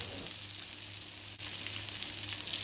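Fish frying in a pan together with a few pieces of garlic, a steady, dense sizzle that continues without a break, with only a brief dip partway through.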